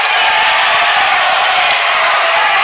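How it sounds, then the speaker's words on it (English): A loud, steady roar of Booker Tornadoes fans cheering and shouting in a high school varsity basketball gym, a dense continuous crowd din with scattered whoops. "You hear a lot of noise in the background. That's coming from some of the Booker Tornadoes in the crowd"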